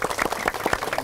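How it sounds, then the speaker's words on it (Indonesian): An audience claps on a television show, a brief burst of quick, uneven clapping from a small group, close and fairly loud. "boleh tepuk tangan yuk bikin semangat tuh hari ini"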